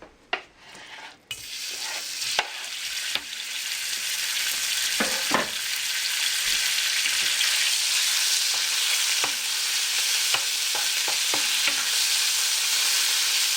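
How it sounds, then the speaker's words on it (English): Pork sears in peanut oil in a hot pan, a steady loud sizzle building after a few sharp clunks of the meat and pan, with occasional stirring scrapes throughout. "we're just going to sear this until it's brown and cooked"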